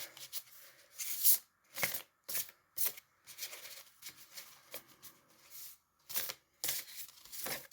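A deck of large cards being shuffled by hand, a run of separate riffling and sliding bursts with short pauses between, close and fairly loud, no talking.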